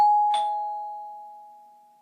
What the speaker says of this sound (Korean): 그때 현관 초인종이 울렸다.